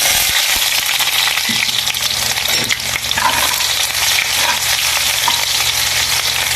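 Garlic and onion frying in hot cooking oil, a loud, steady crackling sizzle with occasional stirring clinks, close and continuous without speech.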